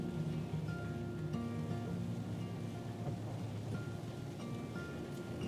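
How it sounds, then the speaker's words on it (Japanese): Rain falling on a car while driving through Ōita, a soft steady patter on the body and windscreen over a low road and engine rumble, heard from inside the cabin and fairly quiet. "今日は雨やな。"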